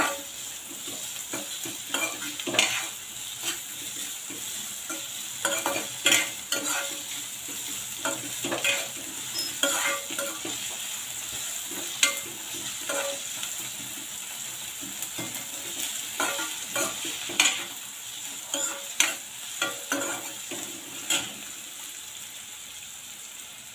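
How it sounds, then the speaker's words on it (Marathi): Chopped onions sautéing in a pan for Maharashtrian zunka, a steady close sizzle broken by frequent scraping stirs of a spoon against the pan, with no talking. "आता कांदा जरा चांगला परतून घेऊया।"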